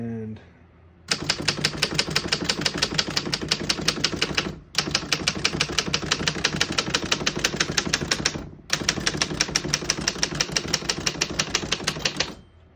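A 1908 Remington Standard 10 antique desktop typewriter clatters with rapid, even keystrokes in three long runs, each separated by a short pause. Close and crisp, with no talking.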